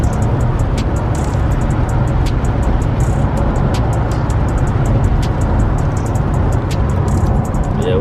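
A car on the highway heading onto an exit, with steady, loud road and engine rumble that holds without a break.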